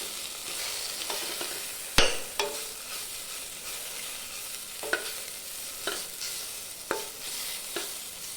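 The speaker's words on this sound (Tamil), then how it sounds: "இதெல்லாம் நல்லா வதக்கிக்கலாம்." Masala for a duck curry sizzles steadily in a pan while a spoon stirs it, with sharp scraping knocks every second or so over the constant frying hiss.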